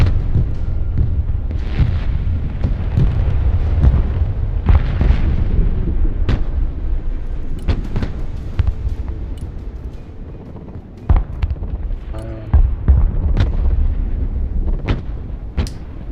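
Ballistic missile strikes in the war game Broken Arrow land as a rapid series of heavy booming explosions, deep rumbling impacts and sharp cracks piling up loudly for the whole stretch, with a brief lull midway.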